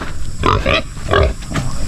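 A pregnant sow moved apart on a free-range pig farm, grunting in several short, close snorts at an irregular rhythm over low outdoor background.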